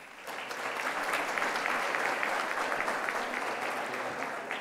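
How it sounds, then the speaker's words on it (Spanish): A steady wash of audience applause fills a university solemn ceremony, dense and even, heard from a distance without any voices over it. "para quien también pido un grato aplauso"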